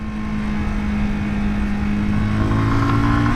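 A 2018 Zontes Monster 125cc motorcycle engine drones steadily up close, its pitch climbing as it pulls through the gears toward the end.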